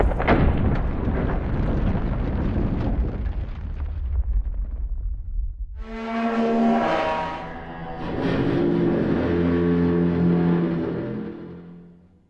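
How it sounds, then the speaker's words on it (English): Designed sci-fi explosion: a huge roaring blast with deep rumble fades out, then long resonant metallic groans and creaks swell and ring, layered to convey the size of a massive structure breaking away. "there's a big explosions layer as it breaks off from its attachment, but there's also some metal groans layered in there"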